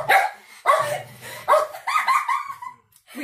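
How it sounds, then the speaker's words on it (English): Dogs bark indoors at home in a quick run of sharp, loud, close barks and yips, several in succession with brief gaps, the last ones rising into a whiny tone. "We have dogs."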